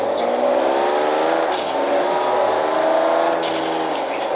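A V12 engine taken from an Enzo Ferrari and swapped into a car in Forza Horizon 3 revs loudly and steadily, its pitch rising and falling in long sweeps with brief sharper bursts.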